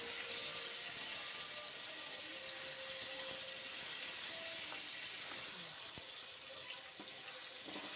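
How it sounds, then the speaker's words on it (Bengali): Cauliflower fries over low gas in a pan, a quiet, even hiss with occasional faint scrapes and a single sharp knock of the stirring utensil, no voices. "এখন আমি ফুলকপিটা ভালো করে নাড়াচাড়া দিয়ে নেব।"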